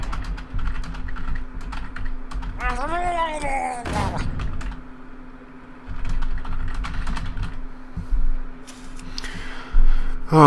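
Steady clicking of typing on a computer keyboard, close and continuous, with a speaking voice and occasional game sounds over it.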